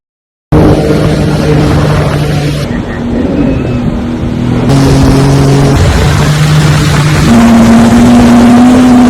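A jet ski water bike rides on a lake at an amusement park in Coimbatore, its engine droning loudly and steadily with shifts in pitch as it revs, heard close throughout after a brief silent start.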